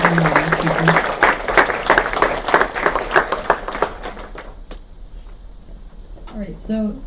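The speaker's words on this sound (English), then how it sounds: "let's give a big round of applause to Cynthia and to all of our speakers" An audience at a UCSB mini-conference breaks into applause for the speakers, dense clapping for about four seconds that thins into a few scattered claps, followed by a brief voice.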